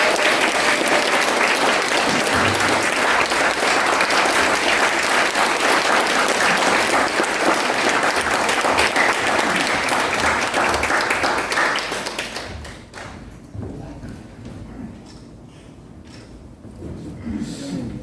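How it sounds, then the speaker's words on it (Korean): Sustained, loud applause from an audience at a Korean lecture event welcoming the guest journalist Kim Yong-sam, dense clapping for about twelve seconds before thinning into scattered claps and quieter room noise. "박수 부탁드립니다."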